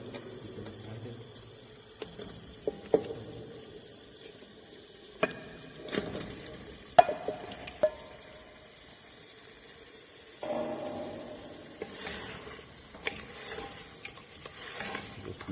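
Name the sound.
stirring mutton into spiced oil for rogan josh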